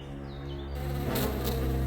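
A cartoon swarm of bees buzzes in a dense, droning hum that swells louder midway, with no voices, as the insects attack and sting a lazy girl.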